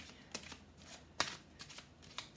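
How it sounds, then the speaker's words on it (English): Soft, close riffling of tarot cards being shuffled: several quick papery bursts spaced irregularly, quiet and without talk. "Spirit wants me to give him another shuffle"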